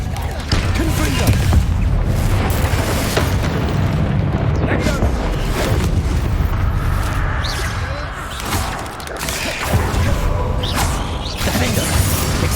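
Confringo spell explosions in the Hogwarts Legacy video game, a dense barrage of loud booms, crashes and whooshes following one another almost without pause, with a voice speaking now and then beneath the blasts.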